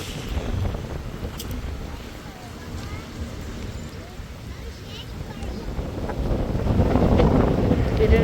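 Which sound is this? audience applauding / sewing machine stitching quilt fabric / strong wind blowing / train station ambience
strong wind blowing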